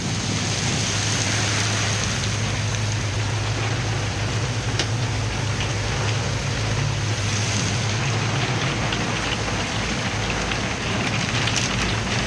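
Steady heavy rain from a severe thunderstorm drumming on a houseboat close by, a dense continuous hiss with a low rumble underneath and no voices.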